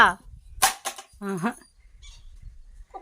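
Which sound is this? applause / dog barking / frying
dog barking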